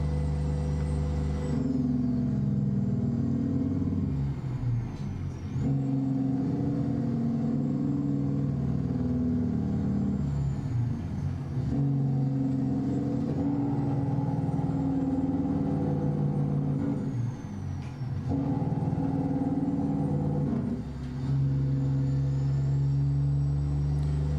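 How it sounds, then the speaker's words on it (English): A Kenworth W900 truck in American Truck Simulator grinds loudly under Jake brake as it downshifts. The sustained, heavy engine braking drone keeps shifting in pitch, with short breaks at the gear changes. "here's some Jake brake for you. Ready? I'll do some downshifting with it too."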